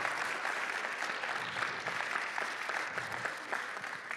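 Sustained applause from an audience at a New Hampshire town hall in Exeter, a dense, steady wash of clapping that fills the whole stretch at an even level with no talking over it.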